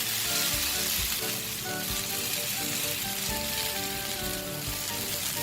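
Grated coconut and chopped vegetables for a Kerala stir fry, snake gourd and jackfruit seeds, sizzle and crackle steadily in a hot pan, a continuous close frying hiss with light scraping, no voices.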